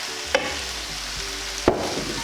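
Kale being stirred in a hot pan with sesame oil, a steady sizzle running throughout with two sharp utensil scrapes against the pan.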